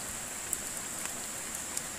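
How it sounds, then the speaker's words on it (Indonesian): Rain falling at a riverside fishing camp during flooding: a steady, even hiss of light rainfall with a few faint drop ticks, no voices. "Hujan lagi, teman-teman. Hujan."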